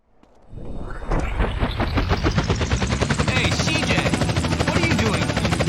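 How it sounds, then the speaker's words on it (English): A helicopter in the video game GTA San Andreas sweeps in and holds a loud, steady rotor chop with dense thumping blade beats and a roaring engine wash. "they're getting a helicopter to do a couple of flybys of the ship"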